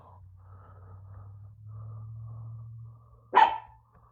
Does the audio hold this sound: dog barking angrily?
yes